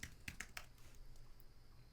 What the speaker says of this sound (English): And as I'm typing